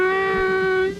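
A harmonica hole-two draw note played with a tightened jaw, one steady, loud and close reedy tone with a strong buzzy overtone series, held for about a second before fading off.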